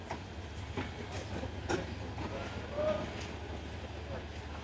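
The Titas Commuter, a local train running from Dhaka to Akhaura, rumbles steadily on the rails with a low continuous drone and faint rhythmic clicks of the wheels over the track joints.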